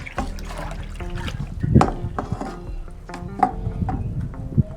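Water poured into a container to mix herbicide, a splashing, trickling flow with uneven gurgles and a few louder sloshes, close and fairly quiet.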